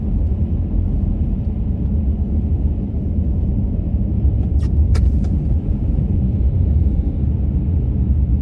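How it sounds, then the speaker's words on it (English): A car rolls along a snow-covered winter back road, its tires and engine making a continuous low rumble at an even level, with a couple of faint high ticks partway through. "I can hear the snow underneath my tires"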